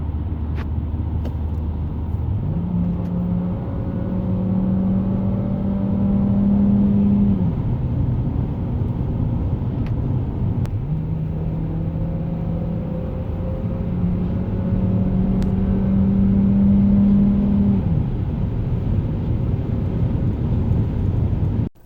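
A Renault Megane Grandtour 1.6 E-Tech 160 hybrid estate accelerates hard. A steady engine drone rises in pitch through two long climbs with a gear change between them, loud and close, with constant road rumble and no speech.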